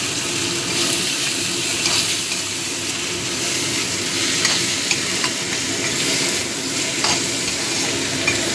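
Spiced dried fish (shutki) mixture stirred and frying in a pan, a steady close sizzle with scraping spatula strokes recurring throughout, no talk.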